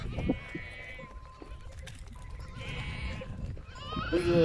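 Young goats and lambs bleat out in a pasture, several short wavering cries close by, heard over low rustling and a voice speaking Turkish.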